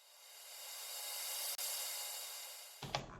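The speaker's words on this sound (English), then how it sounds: "the last part of the verse is a sweep, another one" A rising noise sweep from a music track swells steadily for about three seconds with a brief dropout midway, ending as drums and other instruments come in.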